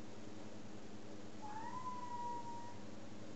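A pet cat gives one drawn-out, rising-then-level meow, faint and somewhat distant over a steady background hiss.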